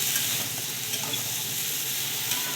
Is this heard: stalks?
yes